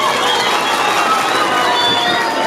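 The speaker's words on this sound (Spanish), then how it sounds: "un aplauso para el Cholo" A crowd at an outdoor fair concert clapping and cheering loudly, a dense, steady wash of applause with shouts mixed in, heard from within the audience.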